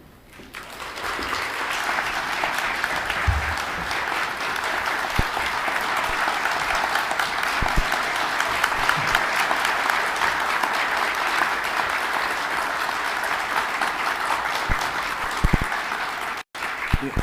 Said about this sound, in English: You mustn't applaud me that much now. I have to perform to earn your applause.